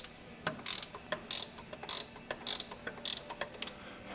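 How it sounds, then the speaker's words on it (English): Ratchet loosening hardware on a 1957 VW Beetle front beam, a series of sharp metallic clicking bursts in quick, irregular runs, close and fairly loud with no talk. "I'm gonna loosen all this hardware."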